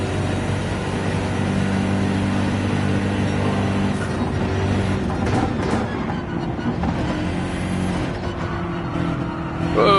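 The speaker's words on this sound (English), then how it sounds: "Wow, this BMW has some serious speed on it" BMW race car engine in a racing video game at Watkins Glen, a continuous steady engine whine with shifting pitch and a few brief surges, loud and even throughout.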